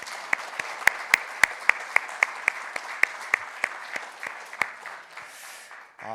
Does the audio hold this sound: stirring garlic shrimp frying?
no